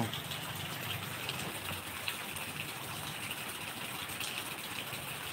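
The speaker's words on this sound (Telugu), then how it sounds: "వర్షం పడుతుంది" Steady rain pours down in a dense, even hiss with faint pattering throughout, no voices.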